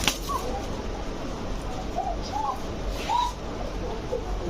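Koka racing pigeons coo in short, soft calls scattered through a steady background hiss, a few faint wing flutters mixed in, fairly close but low in level.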